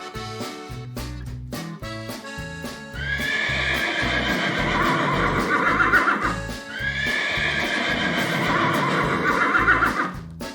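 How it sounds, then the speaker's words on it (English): A horse's hooves clip-clop in a quick, regular rhythm, then two loud, long whinnies ring out one after the other over the continuing hoofbeats. "it's a horse"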